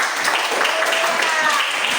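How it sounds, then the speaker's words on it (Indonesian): Students at a vocational school gathering clap on request, a brief, even burst of applause from a room of people, moderately loud and continuous. "Tepuk tangan dulu."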